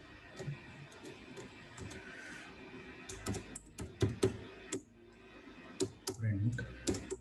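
Typing on a computer keyboard, close and soft, irregular clusters of quick key clicks with pauses between, while someone talks quietly under his breath.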